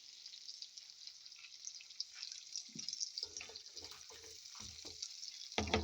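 Native organic garlic scapes stir-fry over a slow, low flame, with a faint steady sizzle and several soft stirring scrapes of a utensil in the pan, quiet and close.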